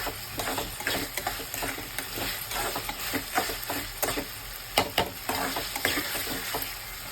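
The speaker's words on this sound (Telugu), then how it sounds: "ఇది కొద్దిగా పచ్చి వాసన పోయేదాకా ఎగితే సరిపోయిందండి." A small tomato frying in a pan for a Telugu egg curry, a continuous sizzle with repeated scraping and stirring strokes close by.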